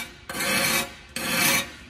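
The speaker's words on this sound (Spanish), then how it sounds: "a darle su lijadita darle con agua" Wet sanding along the edge of a cut glass piece with sandpaper and water gives two long, steady rasping strokes, close and fairly loud, with a brief pause between them and no talking.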